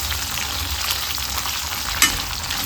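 Cinnamon, cloves, a cardamom pod and fennel seeds frying in hot oil for veg pulao, a dense, even, close-up sizzle with a single sharp utensil clink near the end.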